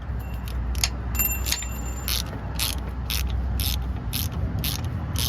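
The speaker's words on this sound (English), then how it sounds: "Then now just fasten it with the ratchet" A ratchet wrench tightens a bolt while a starter is fitted to a 2014 GMC, giving quick sharp clicking strokes in short repeated bursts, close and clear over a low background hum.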